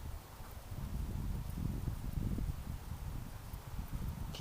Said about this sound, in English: The wind's coming off the swamp.